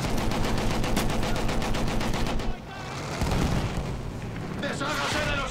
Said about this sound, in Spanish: Espérate que me han tirado una granada.